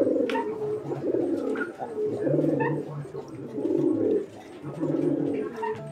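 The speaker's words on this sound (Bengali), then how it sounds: "আর এইটা হচ্ছে বোম্বাই কবুতরের একটি জোড়া" A pair of Bombay pigeons coos in close, loud, rolling phrases that repeat in a steady rhythm about once a second, with faint background sounds beneath.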